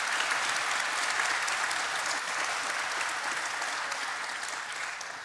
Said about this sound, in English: Let's have a round of applause for the Brockton Area Transit Authority.